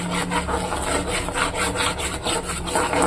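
Wheat flour halwa with sugar is stirred in a pan, a close, rhythmic scraping and rubbing repeated about every third of a second, with no talk.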